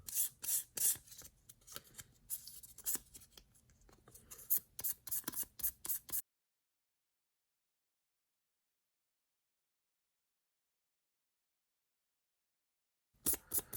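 Wet scratch-removal rubbing on a G-Shock watch's metal buckle, quick back-and-forth strokes in irregular close bursts for about six seconds, then silence before a brief return of the scrubbing at the end.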